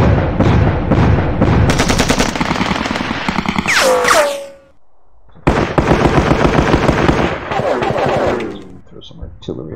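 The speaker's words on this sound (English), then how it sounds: "Aircraft guns make excellent anti-infantry weapons." Rapid bursts of aircraft machine-gun fire in the wargame Sealion '40, loud and continuous with a brief pause midway, then resuming as dense rattling volleys.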